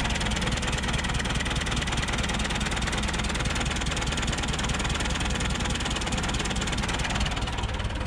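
A Massey Ferguson backhoe diesel engine, not run in 15 years and with an open crankcase, idles steadily throughout, a dense, continuous low rumble with even knocking pulses, close and loud without pause.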